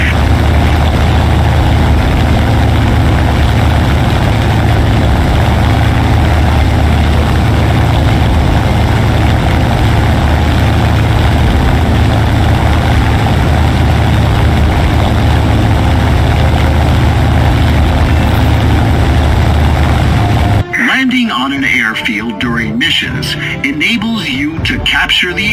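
Propeller aircraft engine roaring during take-off on a runway in the War Thunder video game, a loud, steady droning hum that holds for about twenty seconds before cutting to quieter music and effects.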